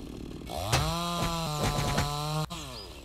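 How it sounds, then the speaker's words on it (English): A chainsaw runs in the survival video game Mist Survival, buzzing loudly with a couple of revving surges and an idling whine for about two seconds before it abruptly cuts out, with no talk over it. "Alright, got our chainsaw out."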